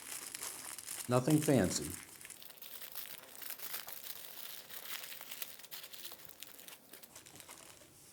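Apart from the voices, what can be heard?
aluminum foil crinkling as it is shaped into a dish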